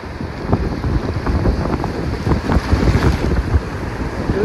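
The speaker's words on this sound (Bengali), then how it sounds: "এই হচ্ছে সমুদ্র, মন্দারমণি" Sea waves and strong wind at Mandarmani beach on the Bengal coast: a constant roar of surf mixed with gusty wind buffeting the microphone, loud and close, with no speech.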